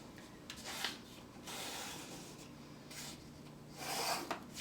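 A pencil rubs along a ruler to mark a line on folded paper, several soft scratchy strokes with brief pauses between them, close but quiet and without speech.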